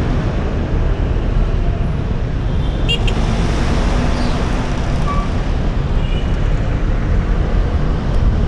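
Busy roadway traffic in the Philippines heard from inside a Ford Fortress 160 cabin, a steady dense rumble of car engines and tyre noise throughout, with a faint horn toot partway through.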